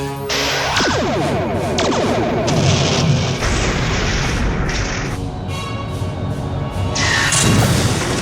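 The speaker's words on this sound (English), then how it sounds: "Ready torpedoes. Aye, sir. On my command. Fire!" Starship torpedoes fire in a fan-made sci-fi film, heavy booming blasts and rushing whooshes layered over a thick, loud effects bed that stays dense throughout, with no voices.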